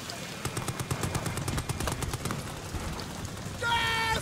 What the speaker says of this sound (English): I'm getting shot at by Germans